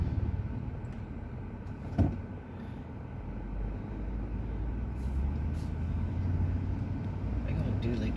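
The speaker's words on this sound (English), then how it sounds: "Big old dually truck." A big dually pickup truck rolls past on a street beside a bike path, its low engine rumble building steadily from the middle of the clip and holding near and loud over steady traffic noise, with a sharp knock early on.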